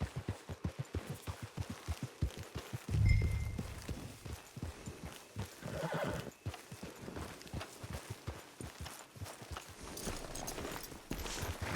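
Horse hooves clop at a walking pace in the Red Dead Online video game, a regular rhythmic series of close, moderately quiet hoofbeats with a brief louder thud early on.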